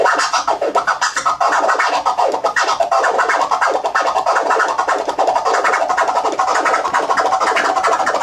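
Fast, rhythmic DJ butterfly scratching on a turntable, a steady stream of choppy scratched bursts at close range with no talking over it.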